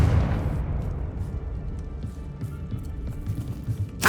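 A Confringo blasting spell goes off in Hogwarts Legacy. A heavy, booming burst opens and fades into a rumbling tail, followed by a quieter stretch and a second sharp blast right at the end.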